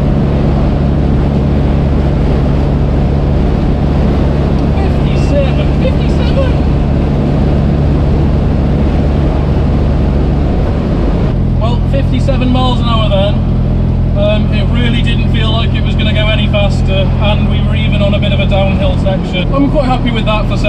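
A classic 17-horsepower Fiat 500 engine drones steadily as the car accelerates, with a shift in tone partway through, while people talk over it throughout.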